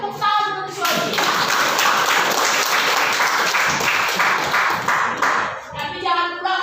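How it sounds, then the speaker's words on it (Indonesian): A classroom group claps for a student named Oji, a burst of dense hand clapping that swells in quickly, holds steady and fades, with a voice briefly before and after. "Tepuk tangan untuk si Oji ya."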